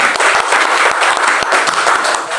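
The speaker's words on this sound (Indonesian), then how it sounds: "Tepuk tangan buat Tuhan." A church congregation at a Jakarta prayer service claps and applauds loudly and densely for a couple of seconds, close and sustained without speech.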